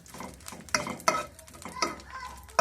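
Cardamom pods, cinnamon pieces and a torn bay leaf fry in hot ghee for a few seconds, with sizzling and several sharp spatula scrapes and clinks against the pan at irregular intervals, close and fairly loud.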